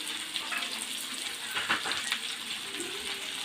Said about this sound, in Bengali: পেঁয়াজটা বেশি ভাজবো না, ভাজলে ভর্তাটা তিতা লাগবে। অল্প হালকা করে ভেজে নিলাম।